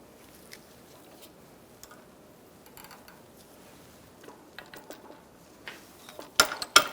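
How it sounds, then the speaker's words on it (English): A spring compressor machine tightening a 2004-2009 Mazda 3 front strut spring, faint scattered metallic ticks and ratcheting clicks that grow louder and sharper toward the end, no voices. "So now we're going to compress our spring."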